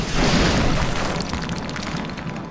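A rocket launched and detonating in XCOM Long War, a heavy booming blast that rolls out at once and fades into a long rumbling tail, loud and alone.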